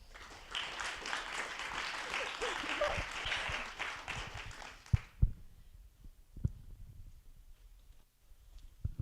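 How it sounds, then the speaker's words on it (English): Audience applause at a research symposium, a dense crowd clapping for several seconds, then stopping abruptly, leaving a quiet room with a few scattered thumps and faint noises. "round of applause for all of our presenters, please"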